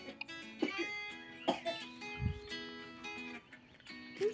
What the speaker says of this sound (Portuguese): parece que a tosse não para